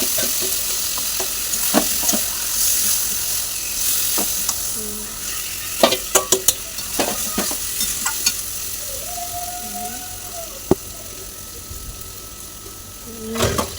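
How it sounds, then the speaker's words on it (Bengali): Meat sizzles and fries in a pan in a home kitchen, a steady hiss broken by sharp clatters and scrapes of stirring, with brief muffled talk. "মাংস বসিয়ে দিলাম"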